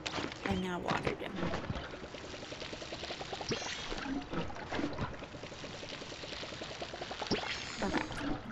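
Watering freshly planted potato crops in the game Palia, a steady splashing pour of water running several seconds, continuous and fairly close.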